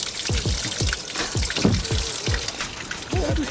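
Water slaps and splashes in a steady, rhythmic series of wave hits near a fishing spot on clear water, close and fairly loud, with a brief gurgle near the end.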